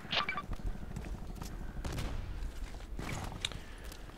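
Scattered gunshots in the shooter game Contract Wars, a few sharp cracks spread through a busy, mechanical game soundscape at moderate loudness, mixed with clanks and distant reports.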